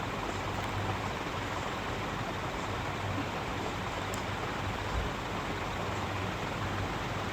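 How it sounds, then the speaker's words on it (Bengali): Sea waves wash onto the beach at Puri, making a steady, dense roar of surf that stays even from start to finish, with no voices. "সমুদ্র"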